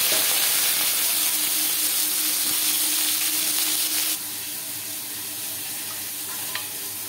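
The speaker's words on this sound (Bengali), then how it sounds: "কড়াইতে রিফাইন্ড অয়েল গরম করে নিয়েছি। উচ্ছে দিয়ে নেব।" Bitter gourd fries in hot refined oil in a wok, giving a loud, even sizzling hiss that drops to a quieter steady crackle partway through, with a faint clink near the end.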